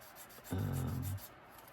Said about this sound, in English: So really all you need to do is to sand this underneath side a little bit.